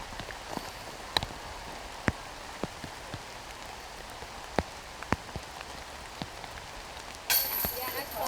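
Steady light rain falls on a disc golf course during a women's championship round, with scattered distinct drops tapping nearby and a brief rise in noise near the end.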